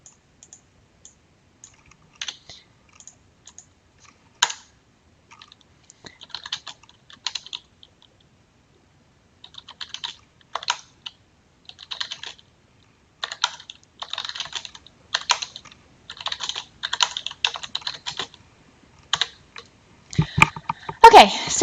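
Keys clatter on a computer keyboard as notes are typed, in irregular bursts of quick clicks separated by pauses, growing denser toward the end, close and crisp in an otherwise quiet room.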